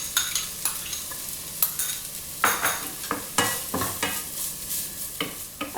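Onions sauteing in ghee with cinnamon and cloves, a steady sizzle broken by repeated scraping stirs of a spoon against the pan, close and fairly loud, with no voices.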